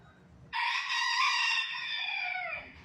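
A rooster that has wandered into a laundromat crows loudly and clearly, one long drawn-out call close by, with faint clucking at the edges and a quiet room hum around it.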